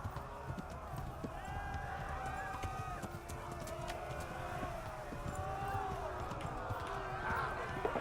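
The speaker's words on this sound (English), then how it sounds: "Run, horse, run." Horse galloping in the Kingdom Come video game, a steady run of hoofbeats carried under continuous game music and ambience, with a voice speaking over it.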